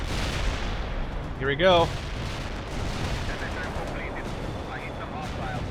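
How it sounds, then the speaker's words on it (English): Su-25 attack jets make strafing runs with cannon fire in the World in Conflict video game, a dense rumbling barrage of gunfire and blasts with a brief louder burst, while someone speaks briefly. "Su-25 doing some strafing runs."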